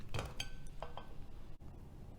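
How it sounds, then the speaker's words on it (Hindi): A serving dish is set over a dessert mould holding an ice cream pudding and the two are flipped, giving a couple of close clinks and knocks of dishes followed by quieter handling. "इसको इसके ऊपर रखें और धीरे से इस तरह से हम पलट लेंगे"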